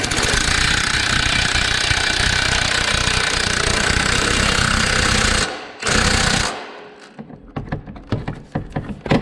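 Power tool running a lock nut home on a Can-Am Renegade wheel bearing, a loud continuous rattling hammer, a brief pause and restart, then stopping into scattered metallic knocks and clatter, close by.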